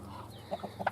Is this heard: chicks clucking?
yes